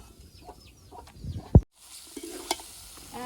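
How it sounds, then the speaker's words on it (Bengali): Potatoes fry in a pan on a clay stove, a light sizzle under a few utensil knocks and stirring scrapes, with one sharp clank midway and chickens clucking faintly nearby. "পেঁয়াজ উঠে এখন আলুগুলো ভেজে নেবো"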